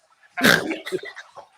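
A single sudden snort, a short burst of breathy nasal noise followed by a brief rough trailing sound, close and loud against near silence.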